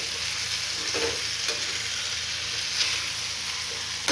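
Okra (bhindi) bhaji sizzles steadily in a hot pan on a home kitchen stove, with a constant bright frying hiss and a few soft scrapes of stirring.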